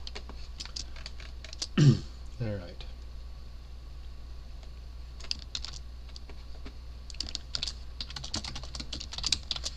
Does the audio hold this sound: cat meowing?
no